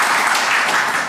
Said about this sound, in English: So how about a round of applause for each of our 4 panelists?